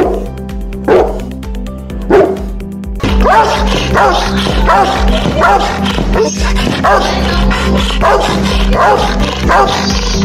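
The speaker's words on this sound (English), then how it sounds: "Powerful and loudest bark. Let's hear it first and we'll decide accordingly." Rottweiler and Bullmastiff dogs bark loudly and repeatedly at close range, deep booming barks in a steady series with a few yips and whimpers among them.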